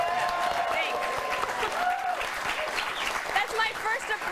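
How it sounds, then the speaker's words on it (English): A studio audience applauds for a talk show, with steady clapping and some whoops, and someone talks over it. "That's my first applause"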